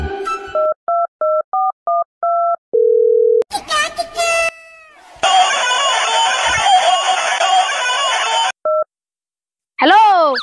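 Touch-tone beeps from a mobile phone as a number is dialed: a quick run of short, evenly spaced tones, then a steady tone, with a voice and other noises following.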